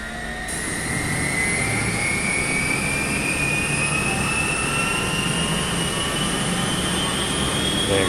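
A UH-1 helicopter turbine starting up in the game MSFS 2024, a loud whine that rises steadily in pitch over a constant rumbling roar, with no voices.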